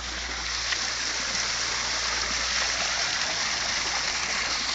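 Spring water flowing from a spout at the bica of Portalegre, a steady close rush and splash of running water that carries on unbroken, with no voices.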